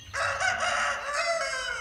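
A rooster crows once, loud and close, a single drawn-out call lasting under two seconds.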